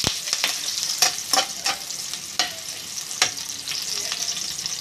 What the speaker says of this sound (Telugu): ఇవి వేగిపోయాక ఉల్లిపాయలు అవి వేసుకున్నాం. కొంచెం వేగిపోవాలి బాగా.